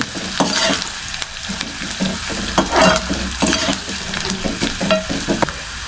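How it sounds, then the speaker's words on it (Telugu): Onions fry in a pan until brown for a village-style Mysore moong dal, a steady loud sizzle broken by repeated scraping stirs, heard up close with no voices. "ఈ ఆనియన్స్ని మనం బాగా బ్రౌన్ కలర్ వచ్చేదాకైతే బాగా ఫ్రై చేసుకోవాలండి"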